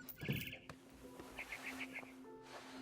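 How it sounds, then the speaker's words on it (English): A quick run of about five bright, high chirps in the middle, like a barn swallow, from the video game What Remains of Edith Finch, over a low steady hum and scattered soft noises. "Then I heard chirping outside my window. It was a barn swallow going back to her nest."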